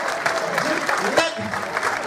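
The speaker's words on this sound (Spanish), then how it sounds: "Quiero un aplauso gigantesco" Applause from an urban music festival audience, a steady wash of clapping with some crowd noise mixed in, fairly close and sustained throughout.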